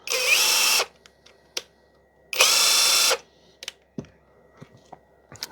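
Litheli U20 brushless impact driver running in normal impact mode, two loud high whirring bursts of under a second each, followed by scattered clicks and handling knocks.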